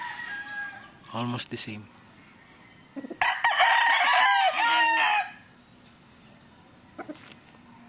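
Roosters crow on a farm with fowl kept for breeding, one shorter call followed by a loud, close, drawn-out crow, with clucking and a voice nearby.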